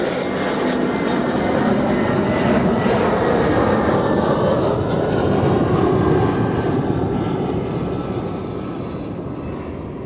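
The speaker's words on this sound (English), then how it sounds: "Air Canada 80, Airbus A380" An Air Canada Airbus A380 airliner at Zurich Airport produces a loud, continuous jet roar that holds steady for several seconds and then slowly fades.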